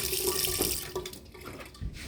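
Tap water runs steadily into a saucepan in a home kitchen while lunch is cooked, a close, continuous splashing pour that thins out toward the end.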